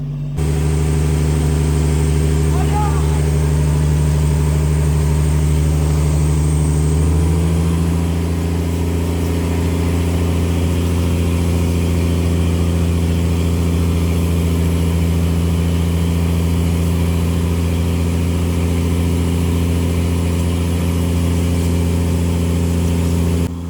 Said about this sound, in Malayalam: ബോട്ട് ഹൈ സ്പീഡിലാണ് കറക്കിക്കൊണ്ടിരിക്കുന്നത്